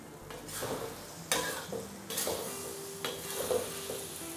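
Jengkol sambal stirred in a wok as it fries, with a continuous close sizzle broken by several scraping sweeps of the spatula against the pan.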